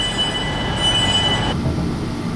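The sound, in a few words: train running on rails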